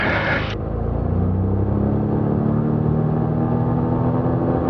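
A King Air propeller aircraft sits with its brake set for warm-ups as the engine runs up to 2,000 RPM on the prop, giving a loud, steady droning hum that holds throughout after a short hiss fades at the start.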